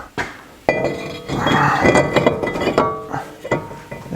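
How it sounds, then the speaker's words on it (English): A brake rotor goes back onto a wheel hub with sharp metallic clinks and knocks, several separate impacts and a ringing scrape in between, close and fairly loud. "We're going to put our rotor back on."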